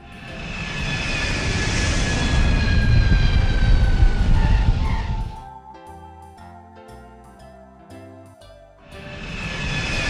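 A sporting airplane's engine drones steadily in flight, loud and close for about five seconds, then gives way to a light tinkling jingle tune before the engine noise swells back in.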